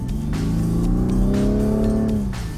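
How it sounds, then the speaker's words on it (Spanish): A 2016 Rolls-Royce Wraith's 12-cylinder engine accelerating, a loud, steady rising engine note with clear harmonics sweeping upward over about two and a half seconds, heard alone with no voices. "vas a ver la otra gran característica de este auto, que tiene un motor de 12 cilindros."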